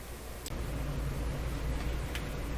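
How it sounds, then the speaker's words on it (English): House air conditioners roar steadily in the background of a room with a vintage Telefunken Salzburg 5094W console radio under repair, a constant low broadband hum with no speech. "if you hear a bit of a roar in the background on the video, it's my house air conditioners."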